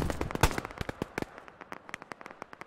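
Gunfire in the video game Operation: Harsh Doorstop, a rapid string of sharp cracking shots: a dense burst up front, then quicker, fainter pops in an uneven rhythm, with no talking over them.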